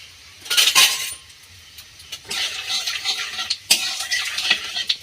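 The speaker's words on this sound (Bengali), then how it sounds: "তেলের মধ্যে একটু জিরে দিয়ে দিলাম।" Cumin seeds and whole spices fry in mustard oil in a pan, giving a steady close sizzle. A spoon scrapes and stirs in bursts, with light metallic clinks.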